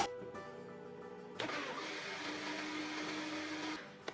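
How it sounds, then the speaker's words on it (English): An electric kitchen blender whirs steadily as it blends condensed milk, thick cream and evaporated milk for chikoo ice cream, starting after a few small clicks and running loud and continuous for a couple of seconds before stopping. "I'll first blend this entire mixture of condensed milk, thick cream and evaporated milk."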